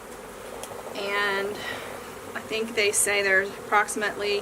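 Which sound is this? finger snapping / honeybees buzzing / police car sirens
honeybees buzzing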